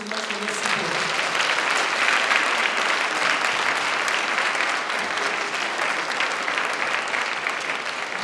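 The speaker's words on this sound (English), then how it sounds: "So please again, a big applause for them" Conference audience applause at an academic congress: sustained clapping from a large crowd, loud and even throughout, with no voices over it.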